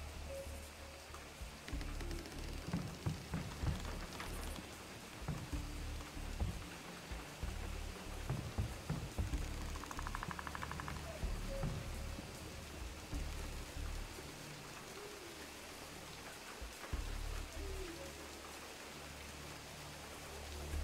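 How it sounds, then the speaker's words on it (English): Rain falling steadily at night in the woods, a soft continuous patter of drops on surfaces with faint irregular taps, no voices. "I think it's just the rain."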